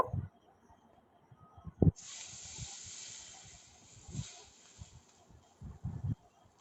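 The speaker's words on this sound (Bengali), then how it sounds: "আবারও বাকি মাছের পিসগুলো ভেজে নেব" Pieces of foli fish go into hot oil in a pan, setting off a sudden, steady sizzle that holds to the end, with soft knocks and thuds of utensils underneath.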